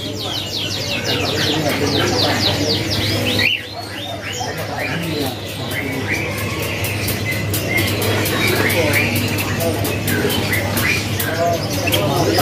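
Many caged canaries at a bird kiosk chirp and trill in a dense, continuous chorus close by, with cooing doves and a steady hum beneath and someone talking over the birds.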